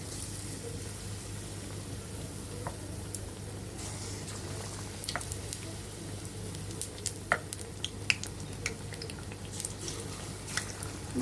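Eggplant fritters (beguni) deep-frying in hot oil produce a quiet, steady bubbling sizzle with small scattered pops and crackles throughout, and no voices.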